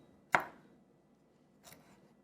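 A kitchen knife slices the tough, fibrous skin off a ginger root: one crisp, close cut, then a softer second cut about a second later, in an otherwise quiet room.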